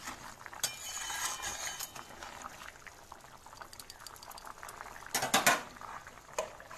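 Garam masala is stirred in a pan for a paneer dish. A spoon scrapes and clinks against the metal pan with a soft sizzling underneath, and there is a cluster of sharper clanks near the end.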